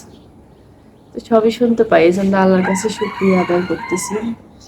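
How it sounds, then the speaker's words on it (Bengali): A rooster crows near the microphone at a rural Bangladeshi home, its call overlapping a voice that talks throughout, with a few clucking notes around it. "দেখতে পাচ্ছেন মুরগি ডাক দিচ্ছে।"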